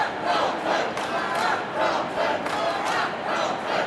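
Big crowd at a Carlton versus Hawthorn AFL match, a loud, rolling roar of chanting and cheering that surges in repeated waves without pause.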